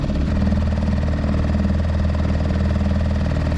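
An outboard motor on a boat runs steadily while cruising through a harbour near Ostia, Rome. The drone holds an even, continuous hum and stays close and fairly loud for the whole stretch, with no talk over it.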